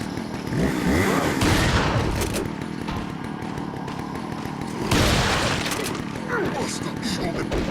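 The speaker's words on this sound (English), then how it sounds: "I can hear chainsaw still going" A chainsaw buzzes in Resident Evil 4 amid a dense, loud wash of combat noise, with bursts of gunfire-like cracks breaking through.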